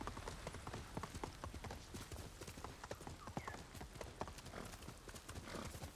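Rapid, steady clip-clop of horse hooves on a hard surface in the video game Ghost of Tsushima on PS4, continuous and close, with a faint whinny mixed in.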